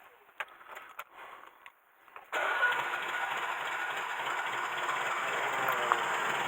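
An old Mercedes W115 engine, not started in three years, cranks with a few uneven bursts, then catches and runs steadily with a loud, rough, continuous drone until the end, through a leaking exhaust.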